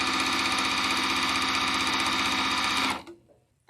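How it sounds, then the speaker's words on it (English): Domestic sewing machine stitching pieced quilt fabric, a steady close whirring hum that runs continuously for about three seconds and then cuts off abruptly. "I'm going to have to pay more attention to where I'm sewing"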